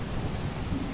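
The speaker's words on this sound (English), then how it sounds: "Lightning found Frederick's bedchamber, and thunder clapped in his ear" Rolling thunder with steady rain, a dense continuous rumble and hiss throughout, loud and close with no voices.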